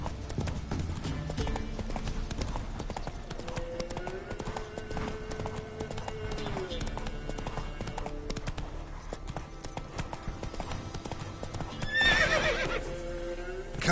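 Video-game horse Roach galloping, a steady run of rapid hoofbeats carrying through the whole stretch, with a whinny near the end and faint music beneath.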